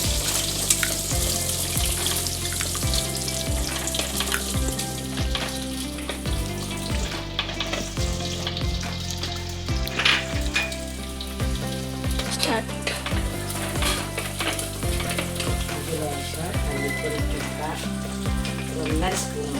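Shallots fry in a pan of hot oil for a mango sardine curry, giving a continuous loud sizzle with scattered crackles throughout, alongside a steady musical background.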